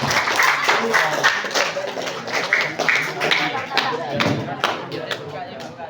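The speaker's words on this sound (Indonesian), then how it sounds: "Tepuk tangan buat Ibu" An audience at a Qur'anic book-reading competition claps for a participant, a loose, fairly dense patter of hands at moderate distance, with a voice talking faintly over it.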